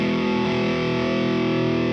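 A distorted electric guitar rings out with a thick, sustained, saturated tone during a rock guitar lesson, loud and steady throughout with no talking.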